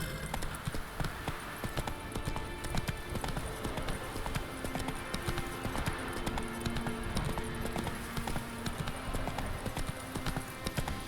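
A horse clip-clops along at a steady, continuous pace in the Witcher 3 video game, set in Novigrad, with the even hoofbeats filling the whole stretch over a dense background bed.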